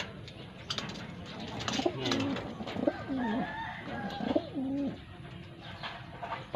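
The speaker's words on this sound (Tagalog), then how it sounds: "Ang natitirang ibon ni Sir Rafi." Pigeons cooing close by, a few rising and falling coos repeated in a slow rhythm over steady background hiss.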